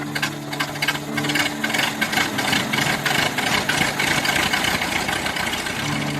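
A small pull-start engine on a makeshift DIY motorcycle runs with a steady rattling idle, loud and close, its rough mechanical chatter continuing without pause.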